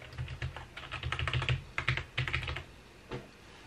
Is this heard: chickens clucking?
no